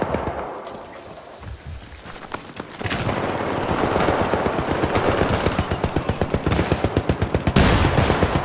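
Rapid automatic turret fire in the co-op shooter Syndicate, a dense, loud stream of bursts building from about three seconds and hammering on to the end, with distant gunfire and thuds beneath.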